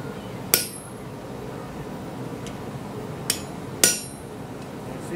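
A blacksmith hammers a decorative hook on an anvil, a few sharp ringing metallic strikes spaced irregularly, with one lighter tap between them, heard close over a low background hum.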